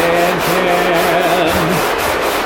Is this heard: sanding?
yes